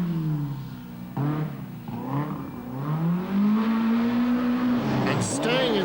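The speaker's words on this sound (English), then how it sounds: "opposite locks his Lotus Sunbeam to 9th place" A Talbot Sunbeam Lotus rally car at a 1991 park rally slides on opposite lock with its engine revving and rising in pitch, fairly close. A commentator talks over it the whole time.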